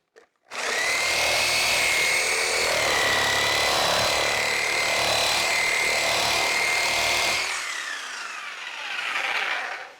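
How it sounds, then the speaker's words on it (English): A reciprocating saw powered by a Bluetti portable power station runs loud and steady for about seven seconds with a high whining motor tone, then cuts off and winds down. "Reciprocating saw."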